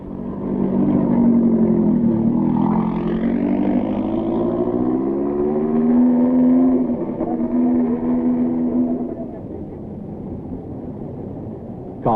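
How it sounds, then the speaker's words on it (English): An Alpine rally car driven by the Frenchman Neve pulls away from the start of the 1971 Rally de Portugal, its engine loud and close, revving steadily with rising and falling pitch before easing off toward the end. "Checking out of the start is Frenchman Neve in his Alpine."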